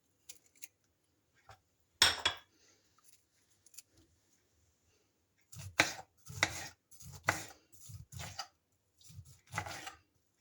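A knife chops through peeled oranges on a board: one sharp cut, a pause, then a run of steady, close chopping strokes with short gaps between them.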